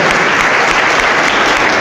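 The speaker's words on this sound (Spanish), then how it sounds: "Un aplauso para ellos" Dense, steady audience applause fills a hall during a Catholic priest's preaching event, loud and continuous from start to finish with no break.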